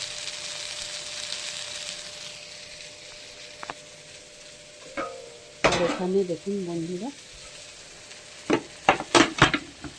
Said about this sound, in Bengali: কলমি শাক ভাজা দেখুন প্রায় হয়ে এসছে আমাদের